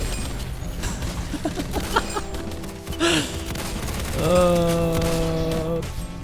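Enemy gunfire in the video game Operation: Solar Crescent, with a run of quick popping shots, a heavier hit in the middle, and a steady droning tone underneath toward the end.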